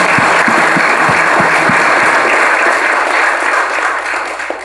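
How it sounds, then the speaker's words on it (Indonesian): An audience at a Buddhist Dharma talk breaks into dense, loud, continuous applause for the organising committee, tapering slightly at the close. "Untuk itu saya rasa perlu tepuk tangan untuk semua ya."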